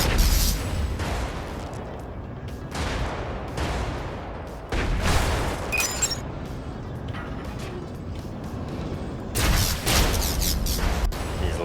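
Cannon fire and explosions in the video game Brigador, a dense run of heavy booming blasts and rumbling impacts rolling one after another, loud and close, with mechanical clanking between bursts.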